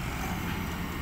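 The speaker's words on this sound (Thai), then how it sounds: "โอ้โอ้รถไถแรงเลยครับรถไถจอมพลังครับ" A powerful John Deere tractor engine runs at a steady, dense roar on a road closed for concrete pouring, filling the whole brief moment without pause.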